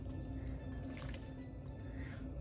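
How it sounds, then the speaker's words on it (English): Running tap water splashes steadily as raw beef is rinsed under cool water in a home kitchen, a continuous close hiss and trickle with no break. "I'm going to rinse it out under some cool water before we season it up"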